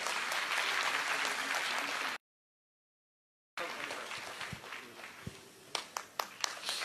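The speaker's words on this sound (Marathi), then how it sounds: "एकदा जोरदार टाळ्या झाल्या पाहिजेत." An audience at a birthday felicitation event in Chinchwad claps loudly in a dense burst that cuts off abruptly, then resumes with sharper, scattered individual claps after a short silence.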